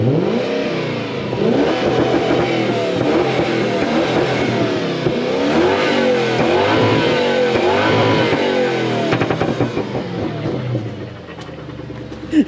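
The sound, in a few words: Lexus LS430 engine revving with pops and bangs tune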